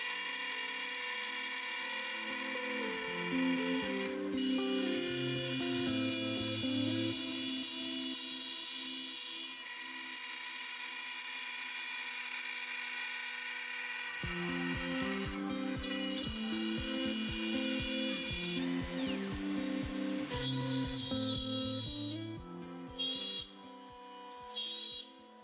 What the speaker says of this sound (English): For 3D milling, I use a ball nose router bit with a diameter of 1/4 inch and a radius of 1/08 inch.